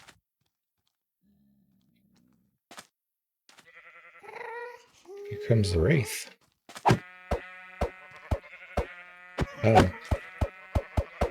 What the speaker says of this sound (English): Because the Wraith is making sheep noises.